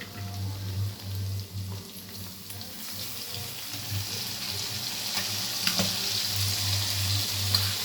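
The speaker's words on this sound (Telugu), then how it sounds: "ఇప్పుడు వచ్చేసి కొంచెం ఎండి కొబ్బరి, అల్లం వెల్లుల్లి పేస్ట్ వేసి ఫ్రై చేసుకోవాలి బాగా." Dried coconut and ginger garlic paste sizzle and fry in oil, a steady broad hiss with occasional stirring scrapes and a low hum running beneath, no voices.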